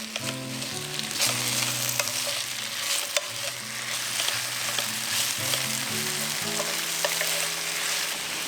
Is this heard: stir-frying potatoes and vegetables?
yes